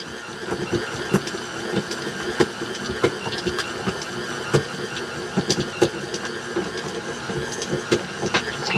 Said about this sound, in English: You let it knead itself for 4 or 5 minutes if the mixer does it for you.